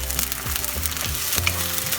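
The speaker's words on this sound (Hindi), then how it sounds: "अदरक लहसुन से जब तक रॉ फ्लेवर ना चला जाए तब तक हमें फ्राई करना है।" Steady sizzling and crackling of ginger and garlic paste frying in a pan, with occasional soft thumps of stirring, continuous and close, no voices.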